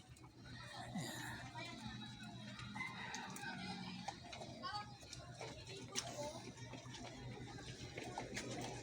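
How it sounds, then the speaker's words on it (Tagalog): Hens clucking and a rooster crowing among a busy flock on a small farm at feeding time, with other farm animal calls and a steady background hum throughout. "Papakain tayo ng manok."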